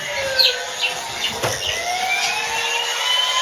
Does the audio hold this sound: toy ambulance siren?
yes